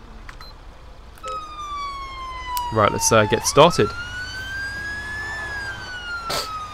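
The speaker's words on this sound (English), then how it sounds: "put our lights and sirens on" A London Fire Brigade engine's siren in GTA 5 wails with a steady, slowly sliding tone throughout, loud and close, while someone talks briefly in the middle.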